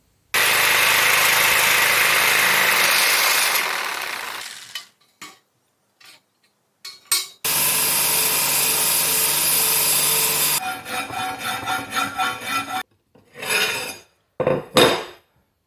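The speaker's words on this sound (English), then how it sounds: "I'll finish it off with the jigsaw now." A jigsaw cuts a steel plate for a wood gasifier choke and reduction section in a long, loud, continuous burst. Short stop-start runs and a second sustained cut follow, broken by brief silences and clattering handling.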